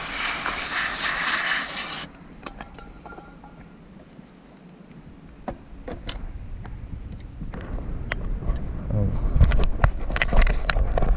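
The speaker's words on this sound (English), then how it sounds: "let's use some brake cleaner on it" Brake cleaner aerosol sprays in a loud, close, steady hiss for about two seconds onto a part of a Vauxhall Vivaro van. Workshop clatter and handling noises follow.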